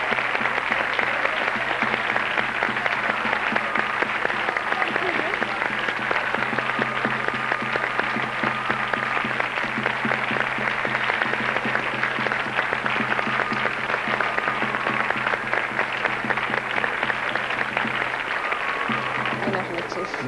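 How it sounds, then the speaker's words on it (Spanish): Steady, dense audience applause on a televised festival show as the moss men of Béjar, Spain, are welcomed on stage in Salamanca, continuous and full for about twenty seconds with a low hum beneath. "recibiendo con un fuerte aplauso a los hombres musgo de Béjar en Salamanca"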